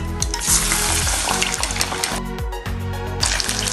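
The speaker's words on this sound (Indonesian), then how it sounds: "masih ada badannya, kita goreng" Fish pieces coated in tempura batter fry in hot oil with a loud, continuous, close sizzle, accompanied by rhythmic scraping stirs.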